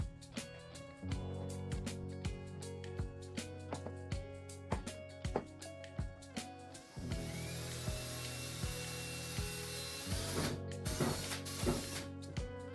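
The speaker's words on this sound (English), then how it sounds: "began riveting the panels together using a lever action rivet gun" A lever action rivet gun sets aluminum rivets joining plastic panels, giving a series of sharp mechanical clicks and snaps at an uneven rhythm, close and fairly quiet, followed by a denser stretch of workshop clatter.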